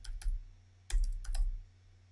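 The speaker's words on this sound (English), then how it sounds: "Let's type in colorblind" Keys clattering on a computer keyboard as a word is entered into a search, three short bursts of quick clicks with pauses between, close and fairly quiet.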